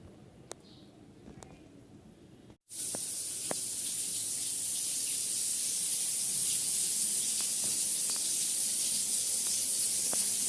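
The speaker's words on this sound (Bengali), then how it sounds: "একদিকে মাছ ভাজি চলছে" Fish frying in a pan for a home-cooked Bengali meal: after a quiet start and a brief cut, a steady loud sizzle and hiss fills the rest, with occasional faint clicks.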